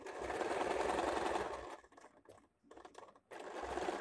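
A domestic sewing machine runs steadily while stitching an A-line square-neck nighty, a dense close whir that stops partway through, leaving a brief quiet gap with faint handling noises before the motor starts up again.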